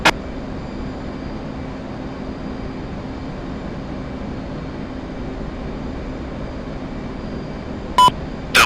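Steady, even roar of an F/A-18C jet engine in DCS, a constant cockpit drone with faint tonal hum, interrupted near the end by brief radio clicks.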